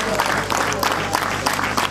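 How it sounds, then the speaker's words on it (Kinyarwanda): Wedding guests applaud in a steady crowd patter that runs throughout, with background chatter and sound-system hum underneath. "ngaho mumpa amashyi nimba mbigenje neza"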